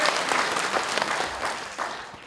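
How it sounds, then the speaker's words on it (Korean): Audience applause at a Democratic Party appointment ceremony, a full, close burst of many people clapping for around two seconds, dense and even, tapering slightly toward the end. "다시 한번 격려의 박수를 부탁드립니다."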